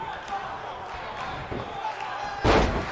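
A wrestler hits the ring mat with a Snapdragon suplex, a heavy thud near the end that booms over the venue's murmur and the commentary.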